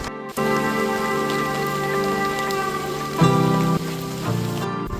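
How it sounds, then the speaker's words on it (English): Steady typhoon rainfall in Tokyo patters down continuously, fairly close, with a dense wash of drops filling the whole stretch and no voices. "The rain's just easing up, just in time for me to arrive at the shrine."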